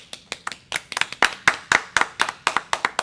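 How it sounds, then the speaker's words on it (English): Spectators at a ProSouth Wrestling show clap in sharp, distinct claps that come close together in a loose, uneven rhythm, with no talk over them. "Clap!"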